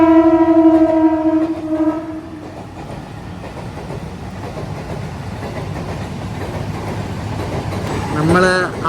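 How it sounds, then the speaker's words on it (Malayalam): A passenger train hauled by a WCAM-3 locomotive passes near Panvel in Mumbai, opening with a loud horn blast followed by a steady rumble of wagons, with a voice briefly audible near the end. "WCAM-3 ലോക്കോമോട്ടീവ് ആണ് അതിൻ്റെ സാരഥി."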